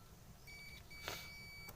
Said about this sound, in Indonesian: ini saya sambungkan pakai multi, ini pakai buzzer ya. Nah dia akan bunyi, berarti dia nyambung ya